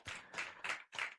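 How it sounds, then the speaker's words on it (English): Faint, distant clapping at an International Women's Day event, heard as a few rhythmic hand claps in quick succession with short gaps between them. "Let's give her a round of applause."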